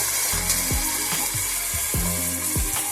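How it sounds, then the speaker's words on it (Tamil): Onions and green chilies sautéing in a pan, with a loud steady sizzle and repeated rhythmic scraping strokes of a spatula, about two per second, close up. "இப்போ ஆனியன் வெங்காயம் நல்லா வதக்கணும்."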